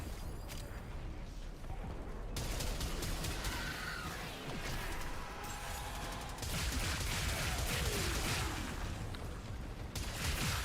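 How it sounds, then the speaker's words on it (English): Gunfire in the video game Warframe crackles and clatters in bursts, with crashing impacts and mechanical clanks mixed in, fairly quiet overall and steady through the clip. "Someone is shooting me"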